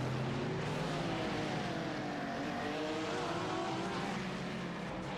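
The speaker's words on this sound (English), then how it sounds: "What a gorgeous noise that flat six makes." Porsche race car with a flat-six engine in a sim racing endurance event at Sebring, a loud continuous engine drone with rising and falling revs and no talk over it.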